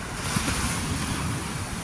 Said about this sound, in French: tu as le bruit des vagues